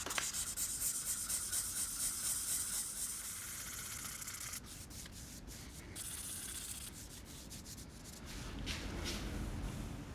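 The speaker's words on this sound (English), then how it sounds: "I'm just going to use my 600 grit and I'm going to go through very carefully just in little tiny spots like this" Close, steady rubbing of 600 grit sandpaper worked by hand over a metal bumper to repair scratches, with continuous strokes that pause briefly and then resume in small spots.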